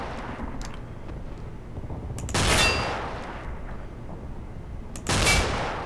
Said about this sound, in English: I'm going to show you why anti-tank rifles are good